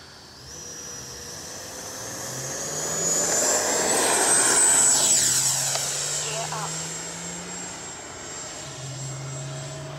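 A Freewing F9F Cougar RC jet takes off, its high turbine-like whine rising and swelling loudly as it passes close by around the middle, then fading into the distance, with faint speech in the background.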